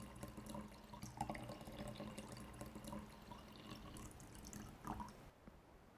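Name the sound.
pouring basal bark spray product into a tank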